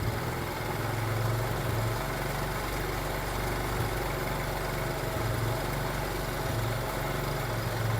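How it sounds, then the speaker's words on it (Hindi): A 70 cc motorcycle engine idles continuously with a low, rumbling drone and slight unsteady pulsing during carburetor mixture adjustment, close and fairly loud, with no voices. "आपने आरपीएम को थोड़ा सा बढ़ा लेना है ताकि बाइक बंद ना हो"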